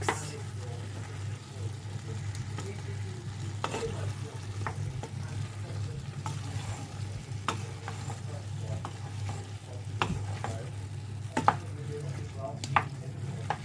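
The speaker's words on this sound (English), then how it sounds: "I'm going to give this a good mix" Vegetables for a vegan curry (cauliflower, carrots, peas) being stirred in a pan, with a steady low sizzle and intermittent sharp scrapes and clicks of the utensil against the pan.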